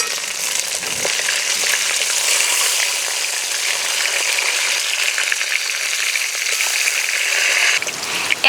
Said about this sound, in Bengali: এই মাছগুলো ভাজা হয়ে গেল।